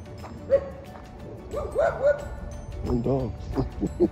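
Small dog yips and whimpery barks come in short bursts amid nearby chatter in a state park, fairly close and moderately loud.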